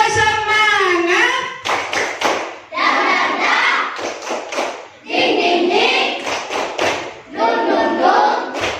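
Students in a classroom do a rhythmic tepuk semangat clapping chant, loud voices chanting together in bursts with claps mixed in, close and lively throughout.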